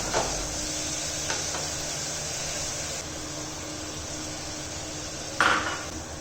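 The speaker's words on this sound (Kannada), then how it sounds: "ಹೆಚ್ಚಿರುವಂತಹ ಸೊಪ್ಪುಗಳು ಹಾಗೂ ಟೊಮೆಟೊನ ಹಾಕಿ ಇದನ್ನು ಕೂಡ ಒಂದು ಎರಡು ನಿಮಿಷ ಬಾಡಿಸ್ಕೊಳ್ಳೋಣ" Chopped greens and tomato sautéing with onions in a pan for paneer biryani, a steady close sizzle with a few scraping stirs and a louder clatter near the end.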